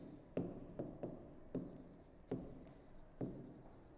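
Chalk or marker writing on a board during an electronics lesson, six quiet tapping strokes at an uneven pace against faint room hiss.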